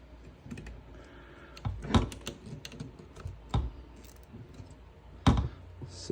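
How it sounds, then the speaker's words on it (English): A zip tie is pulled tight around a cable on a rifle, giving sharp close clicks and short ratcheting bursts in an irregular rhythm. "Zip tie that down."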